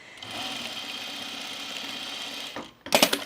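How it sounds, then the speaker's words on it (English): A sewing machine top stitching the shoulder seams of a blouse, running in a steady whirring burst for over two seconds, then stopping with a few clunks and rattles. "let me top stitch my shoulders"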